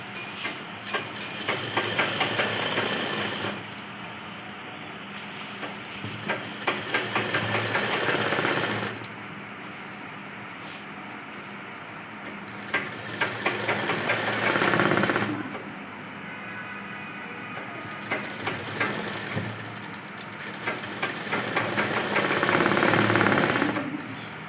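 A sewing machine stitches the round neck of a cotton nightie in long runs of fast, even rattling. Short pauses break the runs, and the machine sounds close and fairly quiet.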